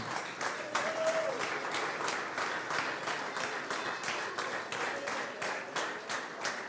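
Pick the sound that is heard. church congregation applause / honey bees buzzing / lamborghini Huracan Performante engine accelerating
church congregation applause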